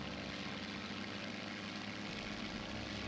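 A Wildcat plane's propeller engine drones in a video game, a steady dense roar that stays constant and fairly distant, with no clear sputter and no voices.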